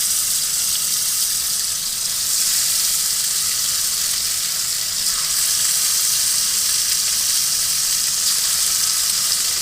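Crappie fillets seasoned with Lawry's sizzle in a hot pan at a winter truck camp in a northern Minnesota forest. The frying hisses loud and close in a steady, unbroken crackle with no talk over it.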